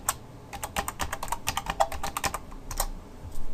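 An email address is typed on a computer keyboard at a login prompt, a quick close run of crisp, uneven key clicks with brief pauses and no talk.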